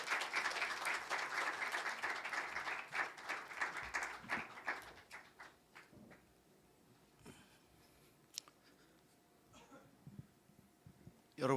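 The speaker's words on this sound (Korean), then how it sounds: "두 분 나오실 때 큰 박수로 모시겠습니다." A seminar audience in a church hall claps to welcome two speakers forward, a hearty burst that fades into scattered claps and near silence, with a few soft noises after.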